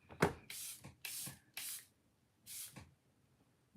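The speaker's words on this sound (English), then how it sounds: "I'm also going to spray my little sponge." Short hissing bursts from a spray bottle aimed at a small makeup blending sponge, about five quick close pumps in an uneven rhythm separated by brief quiet gaps, with no talking.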